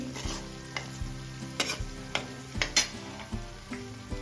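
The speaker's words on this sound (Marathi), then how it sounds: "आता या स्टेजला आपल्याला हळद ऍड करून घ्यायची आहे हळद छान मिक्स करून घ्यायची" A spoon stirring turmeric into a melted tomato masala in a pan, with regular scraping clinks against the metal over a low sizzle, close and clear with no voices.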